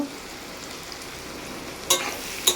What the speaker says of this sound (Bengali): এই যে আলু আর কাঁঠাল দানা আর উচ্ছে ভাজা হচ্ছে।